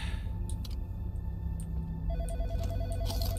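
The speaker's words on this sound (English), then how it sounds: "Oh good, another phone call." Telephone ringing in a video game, a repeating electronic ring in short bursts over a steady low hum, moderately loud and close, with no voices.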